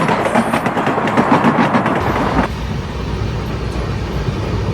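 A passenger train in India runs along the tracks, with loud rumbling and clattering rail noise heard from inside a dirty, damaged carriage, the sound changing abruptly partway through as the train rolls on.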